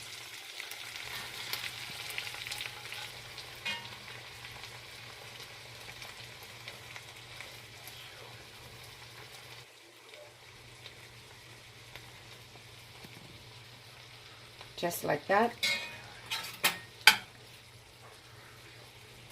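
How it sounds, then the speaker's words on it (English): Cooked beans, lifted from their broth with a slotted spoon, sizzle faintly and steadily in a frying pan for refried beans. A few sharp clatters come near the end, with a brief spoken line. "So now that my beans are sizzling like that"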